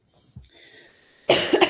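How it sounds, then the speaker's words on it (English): A single harsh cough bursts out loud and close near the end, after a faint throat sound and a small gulp, from someone with a lingering cough. "I have had a cough ever since I went to Hawaii."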